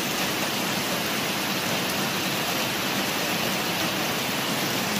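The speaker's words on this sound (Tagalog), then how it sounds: "Ayan, grabe yung ulan dito" Heavy rain pours down steadily on a rainy afternoon, a dense, continuous hiss that stays loud and even throughout, with no voices.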